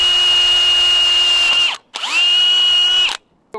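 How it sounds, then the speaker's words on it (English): A power drill bores into a wooden half pipe ramp with two loud, steady whining runs, each ending abruptly in a short pause. "now we are going to drill right on this hole that we just made"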